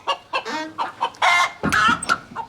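Several chickens cluck loudly and close by in a quick, uneven series of short calls, with no other sounds beneath them.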